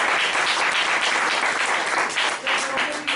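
An audience breaks into sustained applause, loud and dense clapping rolling steadily throughout with no pause.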